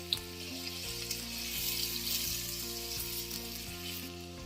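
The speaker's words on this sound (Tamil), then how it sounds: "எல்லாம் ஒன்றாமே நல்லா ஒரு 2 ல இருந்து 3 நிமிஷம் வரைக்கும் நல்லா வதக்கி விடலாம்" Green chili and onion sauté in a pan for fried rice, giving a continuous close sizzle and crackle over a low steady hum, with occasional stirring knocks.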